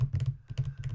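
Rapid typewriter keystrokes clatter in uneven bursts with a short pause in the middle, close and fairly loud, with no voices over them.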